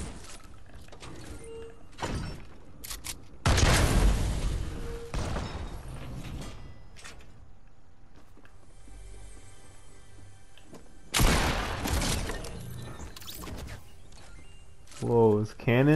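Cannons firing in the video game Fortnite, two loud broadband booms several seconds apart with rumbling tails, set against quieter game ambience, with a voice briefly audible near the end.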